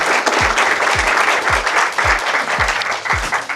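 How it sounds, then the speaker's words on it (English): Sustained applause from a gathered crowd at a hospital observation unit wall-breaking ceremony in Howard County, dense clapping heard fairly close, with regular low thumps repeating about twice a second underneath. "I just want to hear another round of applause for all those folks."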